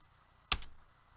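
A single sharp keypress, like the Enter key struck on a computer keyboard, snaps out once in a quiet room and fades quickly.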